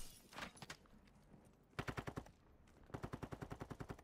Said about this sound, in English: Who's shooting me from across?